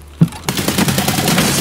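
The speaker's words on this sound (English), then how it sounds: "I just got shot outside the cabin." Rapid gunfire in the video game Escape from Tarkov: a sharp shot followed by a dense, loud burst of continuous automatic fire with a rolling, crackling tail, near and harsh.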